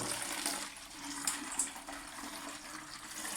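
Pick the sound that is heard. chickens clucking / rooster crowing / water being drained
water being drained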